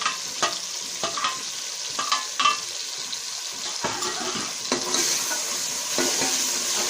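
Chopped green chilies frying with spring onions in a pan give a steady close sizzle, cut by repeated scrapes and clinks of a spoon stirring, with no talk.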